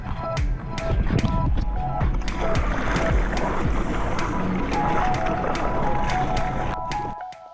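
A surf pool wave machine at chamber number 7 starting up, a loud, steady wash of churning, rushing water with repeated sharp clanks over it, running continuously at close range before easing off at the end.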